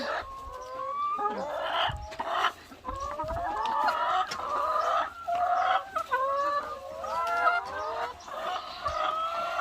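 A flock of about 120 laying hens in a pen clucking and squawking nonstop, many overlapping calls close by, busy and continuous throughout.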